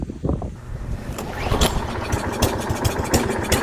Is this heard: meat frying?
no